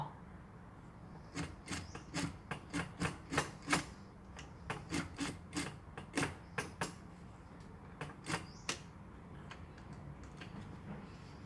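A sewing machine stitches a shoulder seam of a long garment in short bursts, making faint, close mechanical ticking in irregular runs over a quiet background with no voices.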